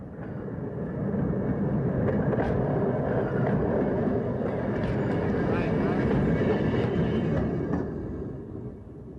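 An old-west excursion train rolls along the tracks with a loud, steady rumble and faint rhythmic clicks of the rails, while someone talks over it throughout.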